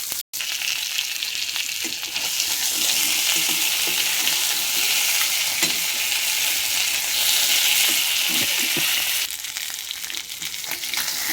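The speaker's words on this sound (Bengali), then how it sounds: "মাছ ভাজাটা উল্টে দিই।" Fish frying in a pan, a steady loud hiss of hot oil with scattered crackles and soft knocks as the pieces are flipped, with no talking.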